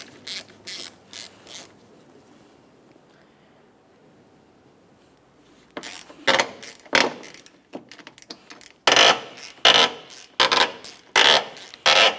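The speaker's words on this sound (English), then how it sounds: "We'll carefully get underneath the center of this and gently pop it up." Plastic bumper push clips on a 2009-2010 Pontiac Vibe being pried up with a trim tool, a string of sharp close clicks and snaps in quick bursts after a quiet stretch.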